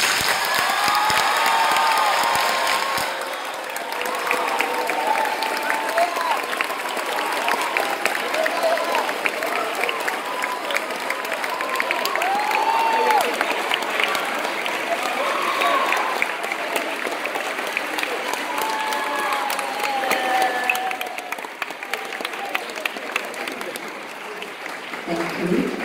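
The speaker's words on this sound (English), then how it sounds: "give a warm round of applause to your teachers and directors" A school audience at a boys' Shakespeare competition semi-final applauds warmly for teachers and directors, a dense, sustained clapping that lasts over twenty seconds and tapers slightly at the end.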